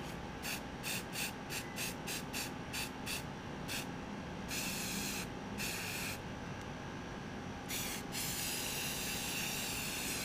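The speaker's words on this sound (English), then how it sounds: "I'm gonna spray the rest of the brackets I laid out there, this time with the white paint." Aerosol spray paint hisses onto metal brackets in white paint, a close series of short rhythmic bursts followed by longer sustained sprays, alone with no talk.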